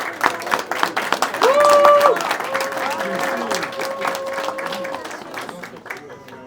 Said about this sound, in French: Allez, vous allez l'applaudir.